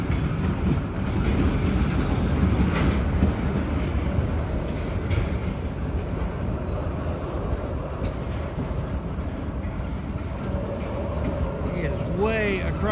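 A Norfolk Southern freight train creeps slowly along the tracks with a low, continuous rumble and faint clatter of cars. A brief squeal comes near the end, heard from fairly close by.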